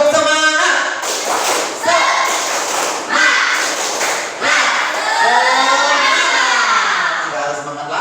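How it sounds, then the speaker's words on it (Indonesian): Primary-school children in a classroom clap a rhythmic spirit clap together, a sequence of firm, evenly spaced group claps mixed with their chanting voices, close and loud. "Tepuk semangat."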